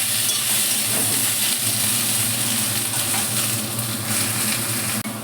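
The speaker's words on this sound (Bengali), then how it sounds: "আলুটা দিয়েও আমি আবার একটু ভালো করে ভেজে নেব" Potatoes sizzle steadily in a hot pan, a constant crackling hiss of frying with a faint clink near the end.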